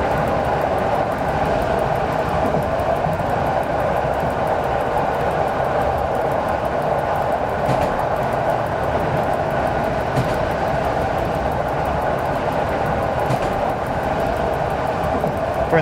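Train wheels clatter over rails and switches in the SimRail railway simulator, a steady loud rumbling roll with faint periodic clicks of the wheels crossing joints, continuous for about sixteen seconds.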